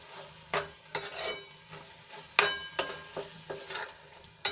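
A spoon repeatedly scrapes and stirs ground cashew powder into masala frying in a pan for a capsicum gravy, with irregular clinking strokes over a soft, steady sizzle, close and moderately loud, no talking.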